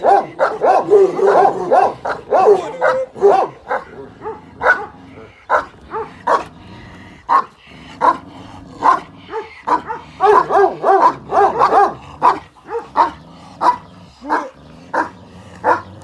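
A 10-month-old Turkish dog barks repeatedly in quick bursts, loud and close, with short pauses between volleys and a few higher yips mixed in.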